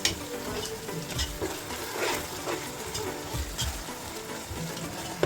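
Ginger garlic paste sizzles and fries steadily in a hot pan while chicken biryani is cooked, with occasional stirring scrapes. The sizzle is close and continuous at moderate volume, and no one speaks.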